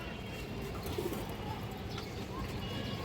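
A full-size green-necked female pigeon coos faintly beneath a dense, steady background hiss and murmur.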